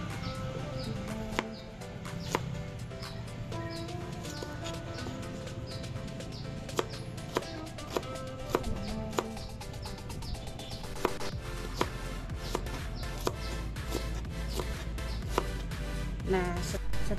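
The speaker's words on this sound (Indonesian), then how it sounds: "bawang merahnya akan kita iris-iris" Knife slicing shallots on a board for chicken rica-rica, with light, irregular tapping cuts set under steady background music.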